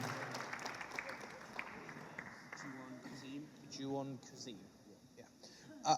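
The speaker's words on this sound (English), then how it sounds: "Stand and give him a round of applause." Youth conference audience rising to applaud a passionate speaker, a dense wash of clapping up front that thins as voices talk over it, with some scattered claps continuing beneath.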